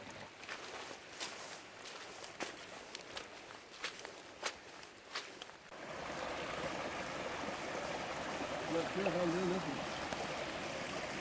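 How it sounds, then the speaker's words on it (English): Footsteps crunch along a rain-soaked forest trail in winter, then a steady wash of running water takes over as the flooded path flows like a creek, with faint talk in the background. "The trail is just a river. Yeah, it's a full-on creek right there."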